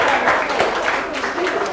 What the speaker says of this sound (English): A big round of applause there for a very good score, Sheila Connolly.